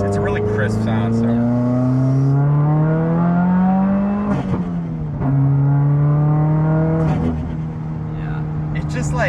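A Subaru WRX's turbocharged engine and aftermarket exhaust rev loudly and close, the crisp note climbing and falling through several pulls with brief dips between them.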